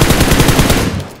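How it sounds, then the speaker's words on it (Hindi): Loud, close AWM sniper rifle fire in a battle royale shooter, a dense burst of rapid gunfire effects heard alone and tailing off near the end. "पीछे से भी AWM चला रहा है"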